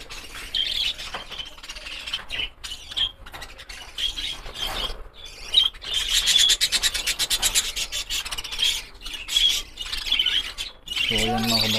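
Pet parakeets nibble and tear at water spinach, making repeated rasping, scratching bites mixed with scattered chirps and squawks, fairly close and continuous with short gaps.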